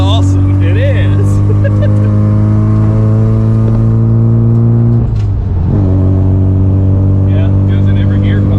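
A Mazda Miata autocross car runs close and loud through its gears, a steady engine drone with a brief dip around a shift, while people talk over it.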